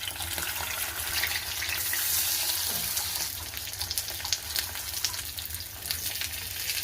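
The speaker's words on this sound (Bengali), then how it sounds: "এবার একদম লো আঁচে এটাকে ভেজে নেব।" Snacks frying in oil over a low flame: a steady, close sizzle and crackle with small bursts of popping that grow more uneven toward the end, with no one speaking.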